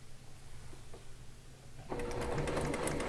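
A heavy-duty sewing machine stitching a quilt top starts up partway through with a steady, fairly loud mechanical whir and rapid needle clatter, after a quieter stretch of room noise.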